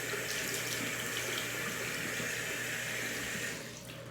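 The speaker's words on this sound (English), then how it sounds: "getting a bunch of water on the tang of my razor" Tap water runs steadily over the tang of a straight razor at a sink, a close, continuous splashing hiss that eases off and quiets in the final half second.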